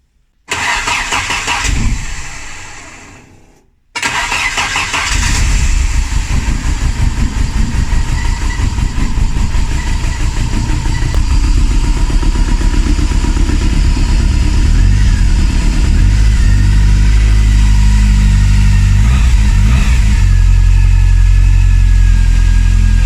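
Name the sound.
car engine starting and revving after long disuse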